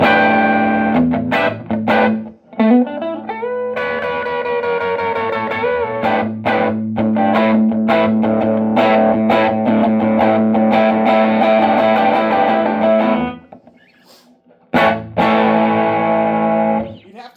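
A Thinline Telecaster on single-coil pickups plays through a Sound Salvage Wrecker 35 recycled tube amp, giving crunchy, distorted chords and short riffs with sustained ringing notes, a brief near-silent gap, then more choppy strums.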